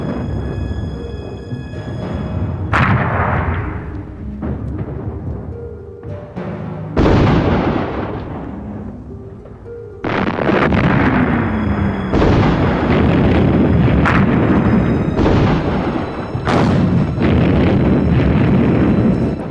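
Battle of Verdun artillery fire and explosions, loud booming blasts arriving one after another, some sharp and close, others rolling and distant, over a constant rumbling, windy battlefield roar with no voices.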